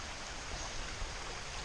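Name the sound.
small stream feeding into the Red River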